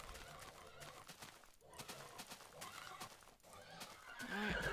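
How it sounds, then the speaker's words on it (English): A horse whinnies in a video game near the end, rising out of a busy layer of game sounds and music. "Oh, it's a horse."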